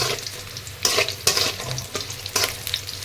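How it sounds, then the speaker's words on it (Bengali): Potatoes fry in oil with a constant crackling sizzle, and several sharp spatula scrapes and turns land about every half second over the short stretch. "এবার আমি পটলগুলোকে তুলে আলুগুলোকে ভেজে নেব।"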